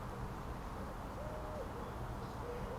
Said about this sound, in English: Pigeons are calling.